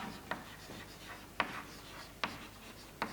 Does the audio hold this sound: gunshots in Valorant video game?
no